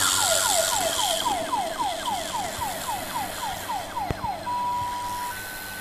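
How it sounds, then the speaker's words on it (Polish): An electric siren inside a glass bell jar, with a vacuum pump running, sounds as a rapid string of falling chirps that then settle into a steady tone, layered over the pump's constant broad hum and whir. "słyszymy i pompę, ale słyszymy też syrenę."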